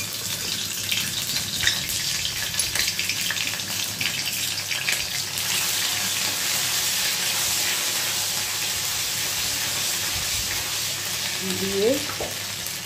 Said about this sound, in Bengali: তেল দিয়েছি, তেলের মধ্যে আমি একটু আদা বাটা দিয়ে দেবো